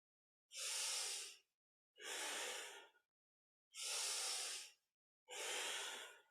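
Four long, deep breaths from kundalini yoga practice, each a strong airy rush lasting about a second, evenly spaced with short silences between, close and clear with nothing else audible.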